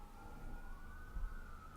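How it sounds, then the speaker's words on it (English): Emergency sirens wail down the street, a steady high tone drifting slightly in pitch, moderately distant over low traffic rumble. "You hear those sirens?"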